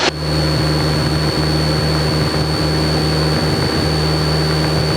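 A light airplane's engine roars at full power for takeoff with the brakes held, a loud, steady drone with a constant high whine on top, continuous and close for the whole stretch.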